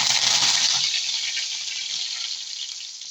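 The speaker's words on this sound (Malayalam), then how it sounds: "നമ്മൾ വെളിച്ചെണ്ണയിലാണ് കേട്ടോ മീൻ പൊരിക്കുന്നത്" Mackerel pieces fry in hot coconut oil, giving a bright steady sizzle that starts loud and slowly eases off, close by with no talking.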